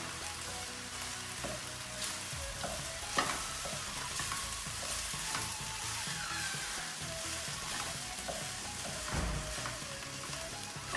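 Food frying in a pan on turned-down heat is stirred together, with a steady sizzle and scraping stir strokes throughout, plus a few louder knocks of the utensil against the pan.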